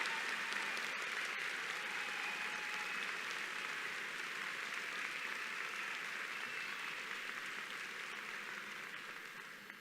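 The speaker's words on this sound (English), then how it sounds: "salute you with extra applause" A large crowd at a graduate school commencement ceremony applauds continuously, a dense, steady wash of clapping that fades slightly toward the end, with no talking over it.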